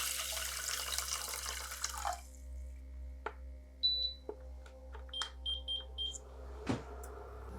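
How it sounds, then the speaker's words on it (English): Water pours into a saucepan holding clove buds and black cumin seeds in a short rushing splash lasting about two seconds, then gives way to quiet drips, light clinks and a few faint high beeps. "and add 400 milliliters of water."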